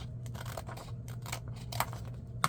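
Quick, crisp snips of scissors cutting through paper, several in an irregular rhythm, close by over a low steady hum.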